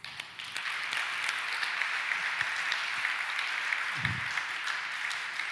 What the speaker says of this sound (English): big applause for the 3 winners